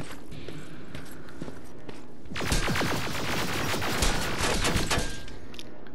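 Enemy gunfire in the shooter game Terminator: Resistance, bursts of rapid crackling shots that start midway and keep rattling in uneven volleys, moderately loud with scattered thuds.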